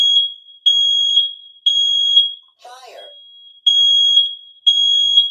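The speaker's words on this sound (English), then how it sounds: "Yes, there is a fire alarm." A fire alarm sounds in a repeating pattern of loud, shrill electronic beeps in bursts of about a second, broken once by a voice speaking briefly between the tones.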